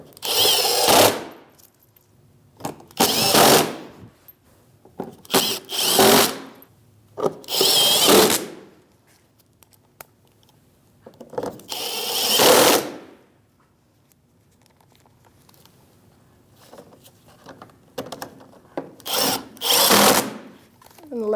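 Power drill driving screws during headlight assembly installation on a 2016-2025 Chevrolet Malibu, in several loud, close bursts of whirring separated by quiet pauses, with faint handling noises between.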